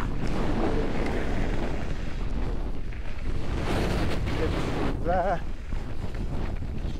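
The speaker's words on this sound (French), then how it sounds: "C'est très venteux." Strong, gusty wind buffets the microphone in a steady, loud roar during a stormy ride over exposed ridge terrain near Cedar City, with brief voice sounds breaking through.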